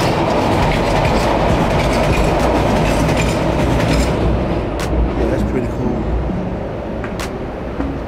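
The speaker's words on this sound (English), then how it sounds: "up there, you're gonna see a train pass by." A train rolls past near Miami Beach, a loud continuous rumble with rhythmic clickety-clack of wheels on the rails that eases slightly toward the end, with a voice talking over it.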